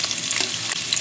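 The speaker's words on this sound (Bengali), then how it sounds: "সাথে 2টা কাঁচামরিচ দিয়ে দিলাম" Two green chilies fry with chopped onion in hot oil in a wok, giving a brief, close, continuous sizzle with light stirring scrapes and no voices.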